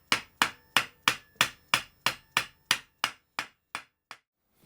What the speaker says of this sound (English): I have decided that I like to hammer them in more than I like using that fret press